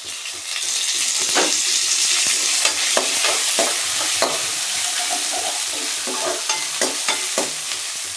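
Curry leaves frying in hot oil for Tamil-style mutton chukka, with a steady dense sizzle and crackle throughout, scattered by repeated stirring scrapes and clicks close up.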